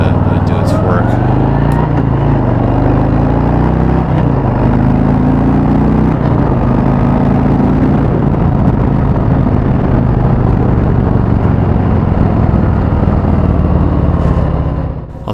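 A 2018 Harley-Davidson Fatboy (FLFBS) pulls away from a dead stop, its engine rising in pitch as it accelerates, then holding a loud, steady, rumbling roar mixed with wind noise close to the rider.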